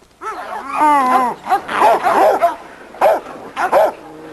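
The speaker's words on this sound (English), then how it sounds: "this little dog called Reno" A little dog named Reno barks and yips in a yard, a quick run of loud, close, pitched barks followed by a few shorter separate yaps with brief gaps between them.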